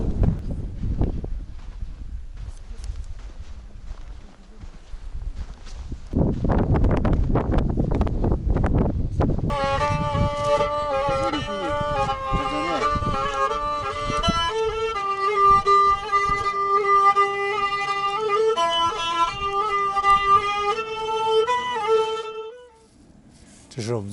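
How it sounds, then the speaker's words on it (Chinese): Strong wind buffets the microphone at Shishapangma base camp beside a rest tent, with gusty roaring bursts in the first part, followed by a long stretch of sustained tonal music that largely masks it. "不过下午风很大。"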